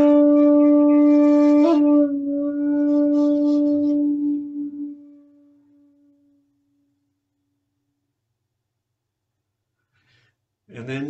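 A single sustained shakuhachi breath note starts at full volume and tapers smoothly into silence over several seconds, followed by a long pause and a faint new onset at the very end.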